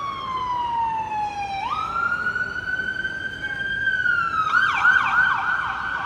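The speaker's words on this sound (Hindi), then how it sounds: "सामने से देखो एम्बुलेंस आती हुई" An ambulance siren wails as the vehicle approaches at a building fire call, sweeping up and down in long tones, then switching to a faster yelp pattern, moderately loud over a low street rumble.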